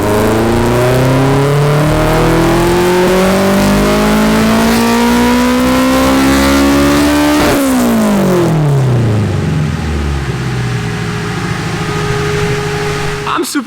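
A Nissan S13 with a high-compression K-series engine revs hard: a loud, close engine climbs steadily in pitch to a screaming peak, then drops away and settles toward idle. A voice can be heard over it.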